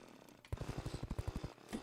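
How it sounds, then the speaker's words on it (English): A video game jackhammer hammers in a rapid, even burst of about a dozen loud blows that starts abruptly and stops after roughly a second, with no voices. "Jackhammer."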